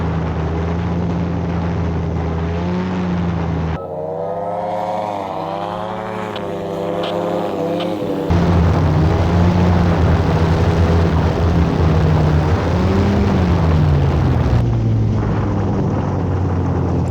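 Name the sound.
homemade ultralight manned aircraft engine during landing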